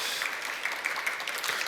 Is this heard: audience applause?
yes